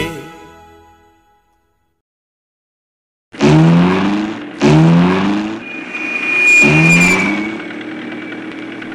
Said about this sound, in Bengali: সকালবেলায় গাড়ি চালাতে ভালোই লাগছে